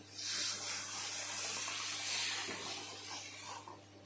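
Water pours steadily into a pan of roasted spice paste for fish curry, a continuous splashing hiss, fairly close, without any talking.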